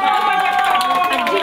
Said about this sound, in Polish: I wielkie ogromne brawa.